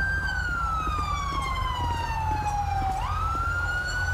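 An ambulance siren in the video game LSPDFR wails continuously, its pitch sliding down slowly then swinging back up, over a low rumble of vehicle engine noise.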